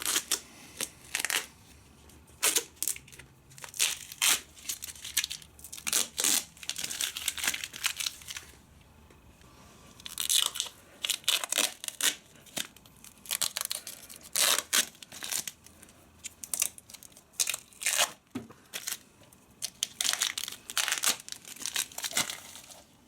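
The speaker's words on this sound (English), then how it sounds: "we'll rip off the sticky tape" Sticky tape is ripped in repeated loud, crackling bursts off a Suzuki DR650 motorcycle's case armour, close up, with short pauses between pulls.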